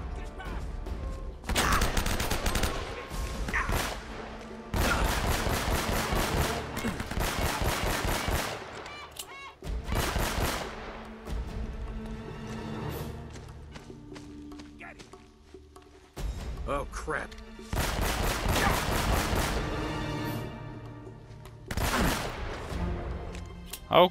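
Gunfire in Uncharted: Drake's Fortune, with several long stretches of rapid, loud shots separated by short lulls, and a voice occasionally heard beneath the firing.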